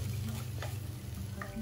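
Masala for a bonda filling is sautéed in a pan, with a soft continuous sizzle and a few scraping stirs of a spoon. The sound is close and moderately quiet, and no one speaks.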